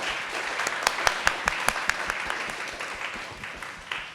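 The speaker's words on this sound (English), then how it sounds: "Can we have a hand of applause for our panelists?" An audience applauds panelists at a Women's Day 2024 event, with steady clapping from many hands filling the room and a few sharper individual claps standing out.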